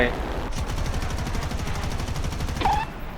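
Aircraft machine-gun fire in War Thunder plays as a rapid, continuous rattling burst under steady engine drone for the whole stretch, with a brief higher whine near the end.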